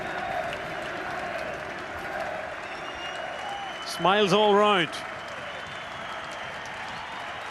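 Steady crowd noise and applause from a large football stadium crowd at a Cliftonville v Celtic match at Solitude, with a commentator talking over it and a brief louder burst of voices midway.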